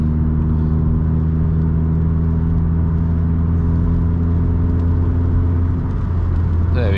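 A low-powered car accelerating onto a 60 mph road on a driving test route, a steady close engine drone with a rising hum held throughout, a brief shift near the end.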